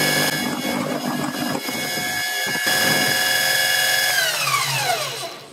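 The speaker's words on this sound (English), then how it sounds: "I think I'm going to mill out this side a little bit so I have lots of room for tightening the belt" A Harbor Freight mini mill cuts a slot in metal. Its high motor whine and cutting chatter run steadily and loud for several seconds, with a brief dip partway through, then the pitch glides down as the spindle spins to a stop.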